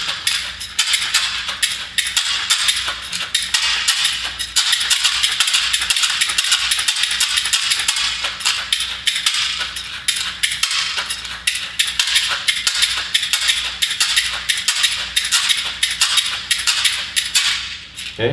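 Two caxixi shakers shaken and turned together, giving a continuous dense rattle of seeds against woven basket walls with sharp clicks, steady and close for about eighteen seconds, no talk.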